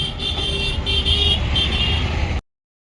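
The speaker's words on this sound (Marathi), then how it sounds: "येणाऱ्या आणि जाणाऱ्या गाड्या एकाच लेनमधून चालू आहेत" Steady road traffic crossing a bridge over the Ulhas River, with vehicles in both directions squeezed into a single lane. A continuous engine hum and rumble runs throughout, a short horn toot sounds, and the noise cuts off abruptly.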